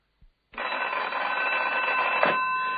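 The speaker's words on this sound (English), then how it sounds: "Until the telephone rang." In a Dr. Gideon Fell radio mystery drama, a telephone bell starts ringing abruptly after a brief knock, one sustained, bright and loud ring that runs on alone.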